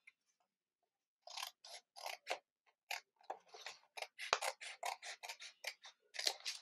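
Scissors snipping origami paper for a craft lesson, a quick series of crisp close cuts in uneven bursts after a brief quiet start, with no talk over them.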